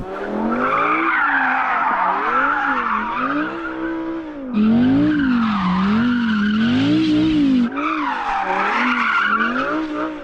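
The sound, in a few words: car tyres skidding while warming up before drag race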